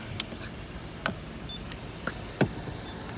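A camera shutter clicks four times at a steady pace while photos are taken of a 2015 Mercedes-Benz C300's wheel, brake pad and side, faint and close against quiet background noise.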